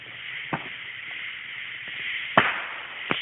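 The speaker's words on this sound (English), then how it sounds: "that was like a little explosion right there" Distant Independence Day fireworks bursting far away, heard as a few sharp, faint pops and one louder crack spaced across a steady hiss of background noise, with no voices.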